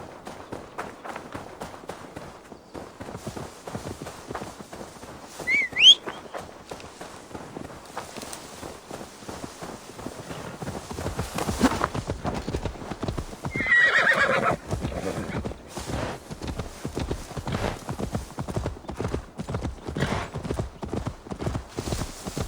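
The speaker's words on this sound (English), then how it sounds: "Now to deliver Magni his horse." Horse hooves in Assassin's Creed Valhalla clatter in a quick, continuous rhythm, with a sharp whinny early on and a second neigh midway, the galloping growing louder toward the end.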